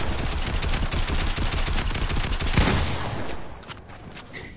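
Sustained automatic gunfire in a shooting video game, a fast, loud stream of shots that keeps going for about three seconds and then fades out with a few scattered game sounds.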